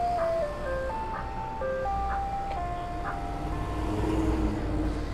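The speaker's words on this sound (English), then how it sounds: "This ice cream truck next to me is really loud." An ice cream truck parked close by plays its tinkling electronic jingle, a simple looping melody of stepped notes over a constant engine idle and street noise, loud and steady.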